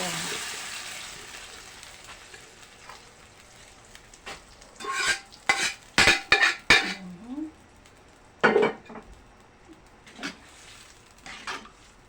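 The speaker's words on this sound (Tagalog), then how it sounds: "Lagay na natin ang munggo." Mung beans go into a sizzling pan for sautéed monggo, bringing a series of loud clattering, stirring scrapes and hissing bursts that come in clusters over a low frying background.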